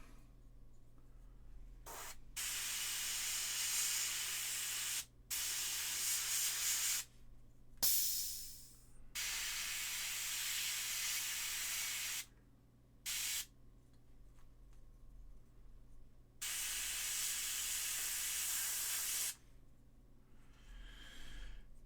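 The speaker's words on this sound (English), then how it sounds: "We'll spray a little bit in behind the cowl here." Repeated bursts of aerosol spray paint hissing behind the cowl of a miniature model, each lasting a few seconds with short pauses between, close by over a low background hum.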